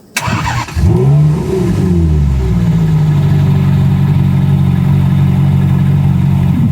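A Ferrari 458 Italia engine, started by push button, cranks and fires up, revs sharply, then settles into a loud, steady, deep idle close by.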